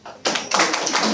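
An audience at a live comedy show in Brno breaks into applause, a burst of clapping that starts abruptly and builds into dense, close clapping from many hands.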